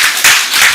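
Church congregation claps for a pastor's birthday letter read by his wife, a short, dense burst of many hands together, close and loud with no talk over it.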